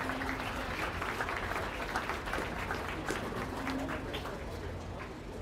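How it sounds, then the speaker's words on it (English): Applause from the crowd at a county fair beef cattle show, honoring the exhibitors of a pair of cattle; a steady, moderately distant patter of clapping fills the whole stretch, with faint bird calls and background murmur mixed in. "Let's give those exhibitors a round of applause"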